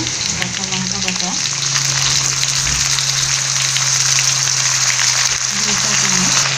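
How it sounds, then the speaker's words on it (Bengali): Green chili paste hits fried onions in a pan, giving a steady, close sizzle over a constant low hum. "পেঁয়াজটা আমার ভাজা হয়ে গেছে, এখানে আমি এগুলো দিয়ে দিচ্ছি কাঁচা লঙ্কা বাটা"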